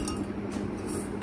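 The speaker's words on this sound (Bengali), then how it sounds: "এই একটা চামচ বাটি কাঁসার" Brass spoon and bowl handled together, producing a few bright metallic clinks and light taps over a low steady background hum, close and brief.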